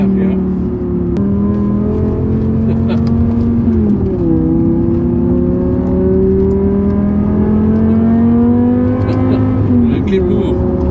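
A BMW M6 with a V10 engine and F1-style exhaust runs at a loud, steady high pitch, revving with rising and falling tones and a couple of quick downshift blips, while people talk over it.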